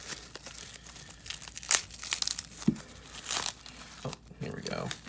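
Plastic saran wrap being crinkled and torn off a lot of 200 Yugioh cards, close irregular bursts of crackling and ripping over several seconds, with some talking.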